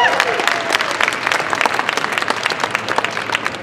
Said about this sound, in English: That deserves a round of applause right there.